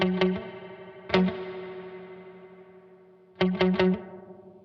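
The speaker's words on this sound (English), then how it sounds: "put the decay right up on the spring reverb and have a really weird sounding long spring" Electric guitar through a Keeley DDR pedal set to spring reverb with the decay turned fully up: a few plucked and strummed notes each ring into a long, drawn-out spring tail that fades slowly, then a quick cluster of notes follows.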